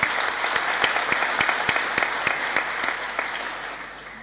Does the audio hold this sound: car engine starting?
no